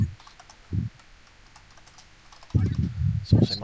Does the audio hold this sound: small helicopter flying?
no